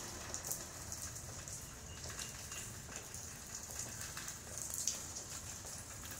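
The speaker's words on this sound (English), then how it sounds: "It's been raining, like I said, since about noon" Steady rain falling beside a porch in Florida, an even patter of drops on surfaces with occasional louder splats, continuous and fairly close, no voices.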